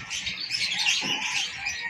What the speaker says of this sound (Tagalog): Merong ibon, karamihan ibon.